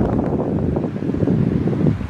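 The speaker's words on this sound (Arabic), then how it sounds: "وكاين هذا الريح كيجي من الشاطئ الابيض" Wind blowing in from the white beach on a winter day roars steadily into the microphone as a loud, rough rush.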